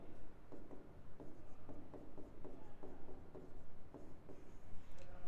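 A word being chalked on a board during a geography lesson: a steady run of short, soft scratching strokes in an irregular rhythm, close by, alone without talk.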